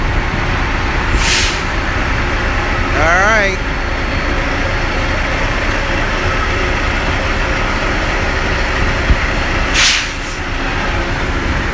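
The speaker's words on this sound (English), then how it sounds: "Sorry it's loud, but we got trucks running everywhere." Idling diesel semi trucks rumble at a truck stop fuel island in Kingsland, Georgia, a constant low engine drone with two sharp air-brake hisses and a brief whine, while a voice speaks briefly.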